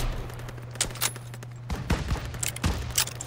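Gunfire in Call of Duty WW2, a World War II shooter, with scattered rifle and machine-gun shots cracking at varying distances over a steady low rumble of battle.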